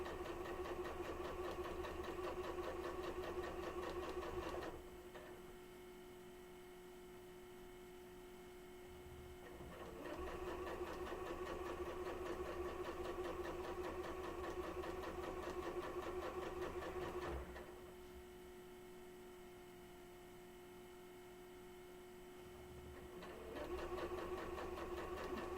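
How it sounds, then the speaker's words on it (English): A sewing machine stitches a tote bag in steady motor-driven bursts, running for several seconds, pausing briefly, then starting again, close and fairly quiet with no talking. "And then I sew them a little bit more."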